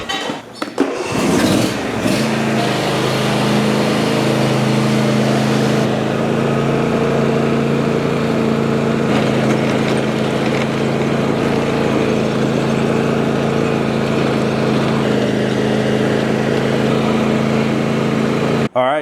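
A riding lawn mower on new Marastar turf traction tires starts up with a brief clatter, then its engine runs at a steady, even drone close by for the rest of the stretch, without talk.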